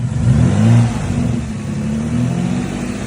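Car engine held steady at about 2,000 RPM during a mass airflow sensor test, a loud, even mid-pitched hum with a brief swell near the start.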